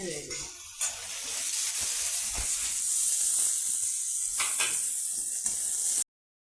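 Onion and coconut pieces dropped into hot oil in a pan for soya bean sabji, a loud, steady sizzle and hiss close up, with occasional clinks and stirring scrapes, cutting off abruptly.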